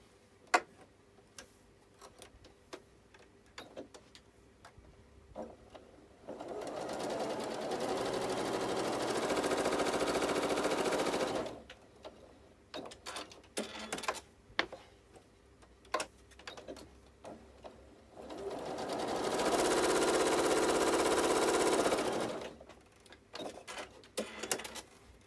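A sewing machine runs two steady stitching bursts, each a few seconds long, across a quilt block line, with quieter handling clicks between the runs.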